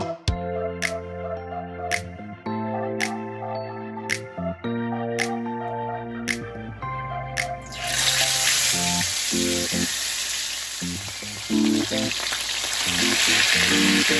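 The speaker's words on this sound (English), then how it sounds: "I'm using my grapeseed oil to fry the fish." Fish fries in grapeseed oil for a Bahamian crab and grits dinner, a loud, close, continuous sizzle that surges in over music with rhythmic beats and carries on steadily to the end.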